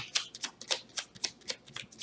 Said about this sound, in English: I shuffle before I start and after the previous reading.